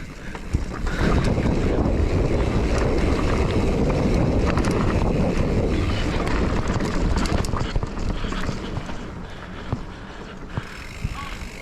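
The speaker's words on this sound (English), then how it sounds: "Such a breezy, hot day." Strong wind buffets the microphone on a breezy, hot day, a steady roaring rush that fills nearly the whole stretch and eases slightly near the end.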